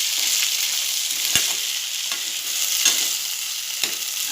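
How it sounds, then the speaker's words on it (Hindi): Coarsely ground sweet corn being stirred into masala in a pan for sweet corn upma, a steady close sizzle with a few sharp spoon scrapes and clicks against the pan, no talking. "अब मैं इसमें ये दरदरा पिसा हुआ स्वीट कॉर्न डालूंगी। और इसे इस मसाले के साथ मिक्स करूंगी।"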